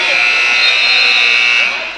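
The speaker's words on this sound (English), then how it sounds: "Looks like a buzzer going off here." A basketball game buzzer at a men's college playoff game blares as one loud, steady, harsh electronic tone lasting about two seconds, filling the gym before fading slightly at the end.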